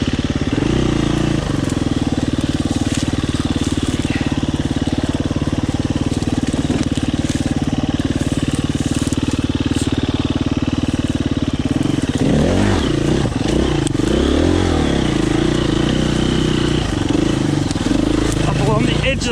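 KTM 350 EXC-F enduro motorcycle working along a newly cut trail past rocks and trees, its single-cylinder engine droning loud and close, then revving unevenly with clattering and bumps in the second half.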